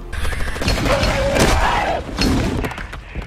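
Rapid, punchy fire from the Halo spiker gun bursts in quick succession amid booming impacts and clattering effects, loud and dense, with no speech.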